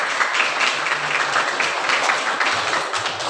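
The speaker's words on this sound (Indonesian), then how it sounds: "Tepuk tangan semuanya." A class of students applauds together after the best group is announced, a dense, steady clapping that fills the room close by and continues without a pause, with no speech over it.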